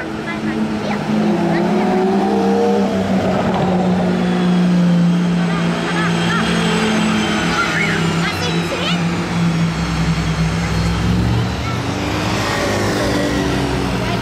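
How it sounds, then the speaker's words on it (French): A convoy of Aston Martin hypercars drives through Monaco, engines droning and rumbling loudly and steadily for several seconds amid street bustle, with people talking over the traffic noise. "Le convoi d'Aston Martin stylé."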